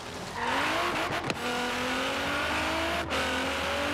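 A 680-horsepower Pagani supercar in Forza Horizon 3 roars loudly, its engine note climbing steadily through the revs with a brief dip as it shifts, dominating the sound throughout.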